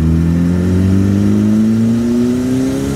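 A turbocharged Honda Civic pulls hard in third gear, its loud engine note climbing steadily and close up for the whole stretch with no talk over it.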